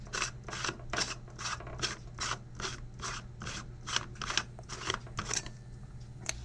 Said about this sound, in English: To get to the line, you would unscrew this top here.